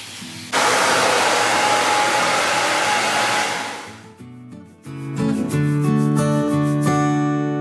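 A hair dryer drying wet paint on an antique mirror roars steadily and loudly for several seconds, dips briefly, then returns with a shifting, tonal whine.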